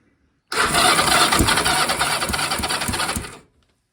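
A BSA Fury SS (E35SS) motorcycle engine catches and fires up abruptly, running loud and close for about three seconds with a rough, uneven beat before cutting out, no throttle applied.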